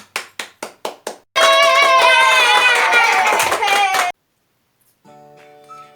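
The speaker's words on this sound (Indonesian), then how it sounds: "tepuk tangan untuk kita semua" A class of children clapping their hands together, six sharp evenly spaced claps followed by a burst of loud group clapping and cheering voices that cuts off abruptly, then a faint tone.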